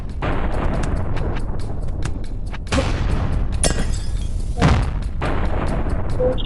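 Video game explosions boom in loud bursts, with sharp blasts and crackling debris over a constant rumbling game background, several hits in quick succession.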